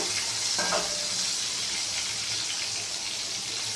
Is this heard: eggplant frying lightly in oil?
yes